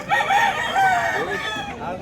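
Roosters crow loudly at a chicken market in Consolacion, Cebu, with several drawn-out cock-a-doodle-doo calls overlapping, clucking fowl mixed in, and faint background chatter.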